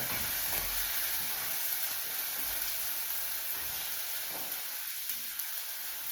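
Tomatoes cook in a pan with a steady, even sizzle and hiss that runs for the whole stretch, fairly close and with no talking.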